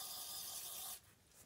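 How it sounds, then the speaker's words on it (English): Cleaner sprayed into a PT Cruiser throttle body: a steady, close aerosol hiss lasting about a second, then cutting off to a quieter background. "I'll just spray it out."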